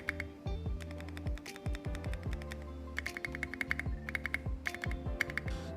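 Keys clack on a Thunderobot K75 mechanical keyboard, crisp close bottoming-out strokes in irregular bursts of rapid typing with short pauses, no voices.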